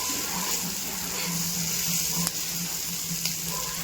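Green chillies sautéing in a pan for a bharit of brinjal, potato and onion, a steady soft sizzle with faint watery hiss and a couple of small clicks, no talk.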